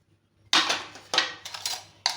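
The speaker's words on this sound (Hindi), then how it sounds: "यहाँ मैं लगा रही हूँ सारे बर्तन" Washed, dried kitchen utensils are stacked away one after another, with several close, bright metallic clanks and clatters and no talking.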